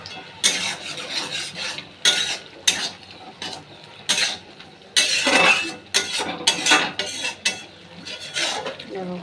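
A prawn malai curry is stirred in a metal cooking pot, the spoon scraping and clinking against the sides in repeated bursts over a low simmering sizzle, close and fairly loud, with no talking.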